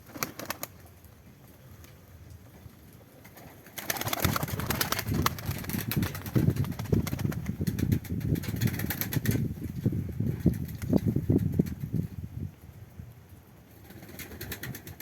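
Konya Arab pigeons cooing and shuffling in a loft, with soft low coos and wing flutters building into a busy, close stretch of overlapping calls, then fading back to quieter ambience.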